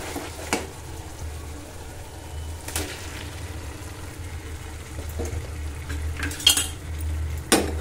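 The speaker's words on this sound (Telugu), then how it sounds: "ఇలా కలుపుకొని చికెన్ ముక్కలు బాగా 5 నిమిషాల వరకు బాగా ఫ్రై చేసుకోవాలి." Marinated chicken pieces frying in a pan of cooked tomato and onion, stirred now and then: a low steady frying hiss and hum, with a few sharp clinks and scrapes of a utensil against the metal pan.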